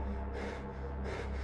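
A person imitates a frightened man's panting gasps while he holds a shed door shut, with rhythmic breathy gasps over a steady low background hum.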